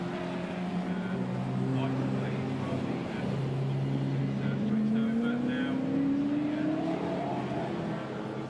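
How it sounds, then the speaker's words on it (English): A large V8 classic sports car engine rumbles steadily during a 40-minute race at Brands Hatch, its note rising as it accelerates past, with a commentator talking over it throughout. "Never ever tire of listening to a large V8 rumbling."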